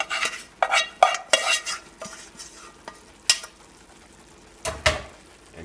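Lentils and wild rice stirred in a pot, giving a series of close, irregular scrapes and clinks of a utensil against the pot, with brief sizzling bursts and short pauses between strokes, no talking.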